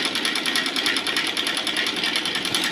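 Sewing machine stitching a cover, running in a fast, even mechanical rattle close up for a few seconds without pause.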